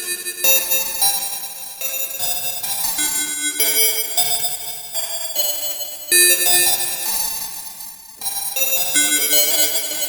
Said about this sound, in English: it's going to give me a bit crushed style sound like this